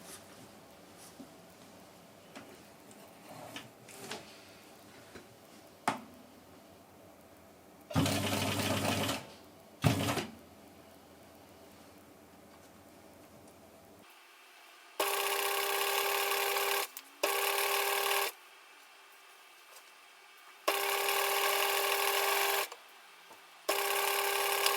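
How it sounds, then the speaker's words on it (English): Bernina 830 sewing machine stitching a seam, several loud steady bursts of rapid whirring needle action separated by pauses, with small handling knocks in between and no talk. "So let's try sewing this seam."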